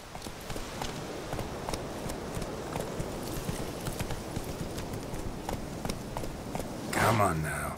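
Horse hooves clip-clopping in the video game The Witcher 3, a steady quick run of hoofbeats over ambient game sound, with a brief louder burst near the end.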